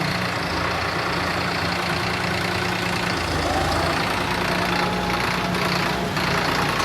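A Swaraj tractor engine runs with a steady, loud, low rumble throughout, holding an even idle-like drone without pauses.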